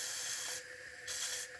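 Steam hissing in two loud bursts from the whistle port of an IND-X electric toy steam engine, close up, with a quieter steady hiss between the bursts.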